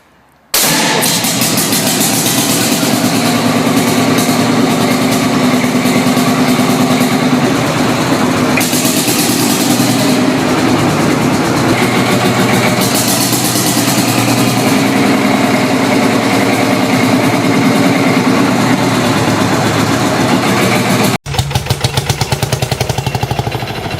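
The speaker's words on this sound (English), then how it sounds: "Discover the 1940s Field Marshal tractor, a single-cylinder diesel marvel bursting into action with a shotgun cartridge start." A 1940s Field Marshal single-cylinder diesel tractor, shotgun-cartridge started, runs loudly and close with a dense continuous engine roar for about twenty seconds before a brief cut and a shift in tone.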